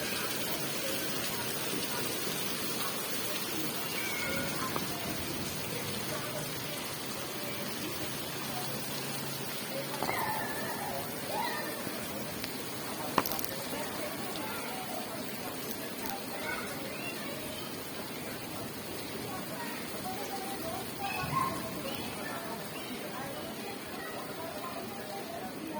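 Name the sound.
heavy rain falling, water coming off the roof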